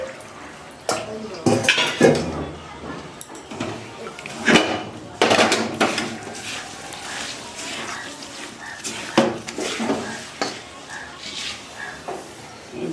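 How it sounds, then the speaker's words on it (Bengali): Rice flour being mixed with water by hand in a bowl for malpua pitha, soft squelching and occasional clinks of the bowl in irregular bursts, close, with a voice talking over it. "এখানে আমি জল দিয়ে মেখে নিচ্ছি"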